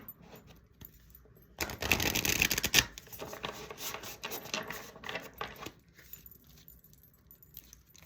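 Woodland Wardens oracle cards shuffled by hand in a quick papery burst of riffling and rustling, loudest for about a second, followed by softer intermittent card shuffling with no talking.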